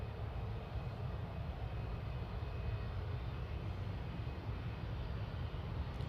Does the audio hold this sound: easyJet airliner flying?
yes